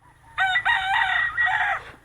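A rooster at a rural camp in La Carlota City gives one loud, close crow of about a second and a half, with a short break early on and then a long drawn-out call over a quiet background.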